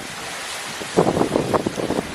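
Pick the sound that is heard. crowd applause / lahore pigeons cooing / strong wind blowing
strong wind blowing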